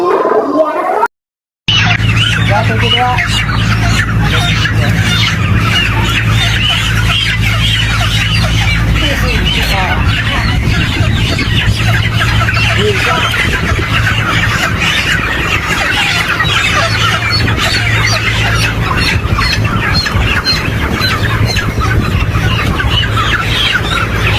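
A crowded flock of broiler chickens clucks and squawks nonstop during harvest, a dense, noisy chorus after a brief silent gap near the start, with voices now and then.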